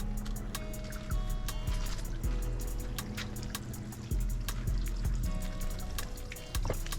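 Water spills through the overflows of a DIY koi pond drum filter, a steady splashing trickle with repeated gurgling drips close by.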